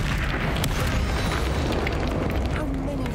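Confringo fire spell explosion in Hogwarts Legacy, a dense, continuous roaring blast with crackling bursts, loud and close, with voices mixed in.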